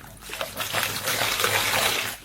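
Water poured into a bowl packed with paper, a close trickling and splashing pour that builds and runs steadily before stopping.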